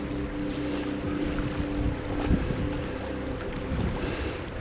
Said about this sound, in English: Quite a strong wind from my right here.